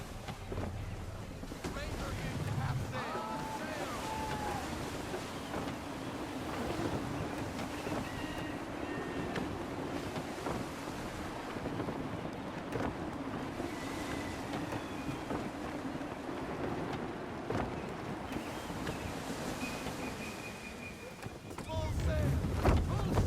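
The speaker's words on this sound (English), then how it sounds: "Wind looks to be shifting. Stay alert, Connor. Gusty winds can be difficult to manage." Gusty wind roars over ocean waves as a sailing ship crosses open sea in Assassin's Creed III Remastered. A continuous, moderately loud whooshing rush is heard, with voices speaking over it.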